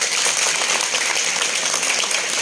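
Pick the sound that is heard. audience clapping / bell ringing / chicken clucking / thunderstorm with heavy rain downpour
audience clapping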